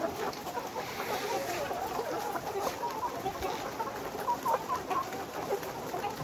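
Caged layer hens about 126 days old, close to laying, cluck steadily in a poultry shed, a dense chorus of overlapping calls with a constant background hum and no talk.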